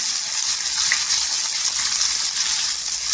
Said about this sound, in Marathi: कांदा पण परतून घ्यायचा सोनेरी कलरवर.